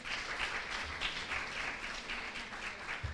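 A lecture audience applauds its guest speaker, Dr. Luiz Roberto da Matta, with steady, dense clapping that holds at an even level throughout.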